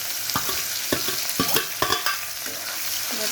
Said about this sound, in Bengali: এবার কেটে রাখা পেঁয়াজগুলো দিয়ে দিব